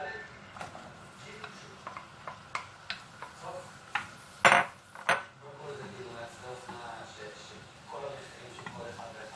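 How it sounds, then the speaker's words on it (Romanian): Onion sautéing in a pan while a chicken liver cake is made, heard as irregular close clinks and scrapes of a utensil against the pan over a soft hiss, with a voice talking at times. "Călim ceapa bine."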